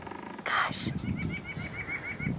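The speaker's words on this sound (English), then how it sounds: "Do you hear the birds chirping?" Small birds chirp outdoors on a spring bike ride beside a stream, a quick series of bright, evenly spaced calls rising over running water and a faint burst of other noise.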